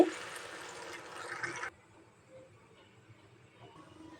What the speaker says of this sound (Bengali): এখন দিয়ে দেব ঝোলের পানি।